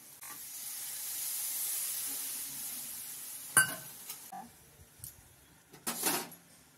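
Koi fish fries in hot oil with spices in a pan, giving a soft continuous sizzling hiss that is joined later by a few sharper spatters and stirring clatters.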